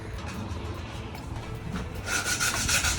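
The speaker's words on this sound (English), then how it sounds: "doing the detail sanding of our little armrest piece" A battery-powered sander makes a steady gritty rubbing on wood, growing louder and harsher near the end, close up with no talking.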